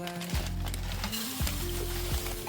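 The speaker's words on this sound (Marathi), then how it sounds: "दोन मध्यम आकाराच्या कढयांमध्ये मी पोहे भाजले" Steady sizzling of thin flattened rice (poha) roasting in a hot pan, continuous crackle and hiss with faint low hum underneath, no voices.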